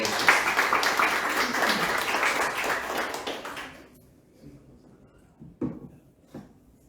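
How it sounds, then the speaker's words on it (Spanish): Loud applause from an audience at a photography day event fills the room, a dense wash of clapping that fades out abruptly, leaving a few scattered claps and light room noise. "Recibamos con un fuerte aplauso a Rafael Simón Torres."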